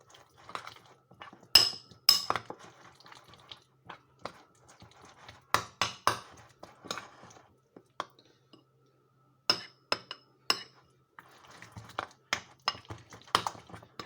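A spoon clinks and scrapes against a bowl while salmon en croute filling is stirred, in short irregular bursts of clatter separated by quiet pauses.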